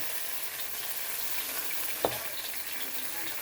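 Soaked rice vermicelli stir-fries in a wok over high heat for old-style red noodles, giving a steady, even sizzle with one sharp knock midway.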